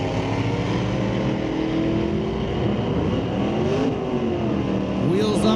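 A 1969 Ford and a 1983 Chevy S10 with a 355 engine idle and rumble at the start line of a drag strip. The steady engine drone swells toward the end, with a voice talking over it.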